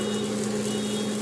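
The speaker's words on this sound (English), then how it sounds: "All right, you can hear my smoke alarm going off in the back." Smoke alarm going off in a home kitchen during cooking, a thin, steady electronic tone droning continuously in the background with no speech.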